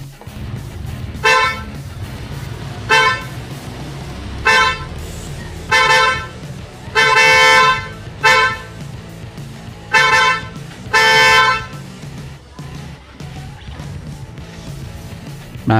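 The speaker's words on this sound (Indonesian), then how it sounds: "review singkat tentang pemasangan klakson dan juga karakter dari klakson Flosser" Floser snail-type car horn, fitted to a car and sounded from a few meters away, gives about eight loud, bright toots of varying length, some short and some held, over a steady low engine rumble with no talk.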